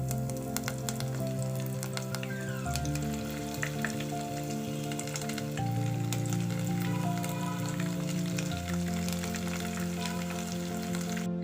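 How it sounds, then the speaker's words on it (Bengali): Shrimp cutlets frying in hot oil in a frying pan make a steady, dense sizzle that runs close and unbroken throughout, with tonal music playing underneath. "এবার আমি আস্তে আস্তে করে কাটলেটগুলো তেলের মধ্যে দিয়ে দেব"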